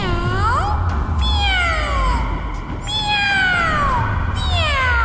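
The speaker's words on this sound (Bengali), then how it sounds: "এই বিড়ালের ডাক কোত্থেকে আসছে?" A cat meows repeatedly, several long, loud, drawn-out cries with falling pitch, close by and over a low background hum.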